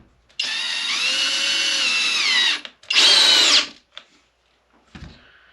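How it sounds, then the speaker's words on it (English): A Skil power drill runs at a steady high whine for about two seconds, stops, then spins again in a shorter burst into an existing hole, close and loud, followed by a few faint knocks. "I'm just curious, in the same hole, will it go? It will. Pretty solid little drill for the price, really."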